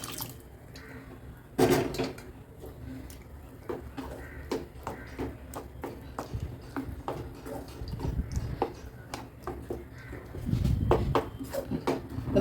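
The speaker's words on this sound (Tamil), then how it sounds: "குக்கரை கழுவி தண்ணி ஊற்றிக்கிறேன்" Water is poured and splashed into a metal pressure cooker as it is rinsed in a home kitchen. Faint clanks of the metal pot mix with soft trickling and dripping, fairly quiet and close, with little talk.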